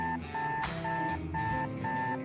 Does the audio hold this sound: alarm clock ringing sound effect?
yes